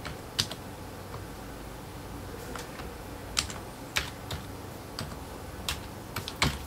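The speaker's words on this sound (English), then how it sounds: "I type in my first personal name, my last name, and my email address." Scattered keystrokes on a computer keyboard as a name and email address are entered, sharp separate clicks in short irregular bursts with pauses between, fairly close over a faint background hiss.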